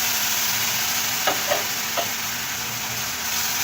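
Milk poured into a pan of roasted vermicelli for sweet sawaiyan, giving a steady loud sizzle and hiss with a few soft stirring scrapes and no talking.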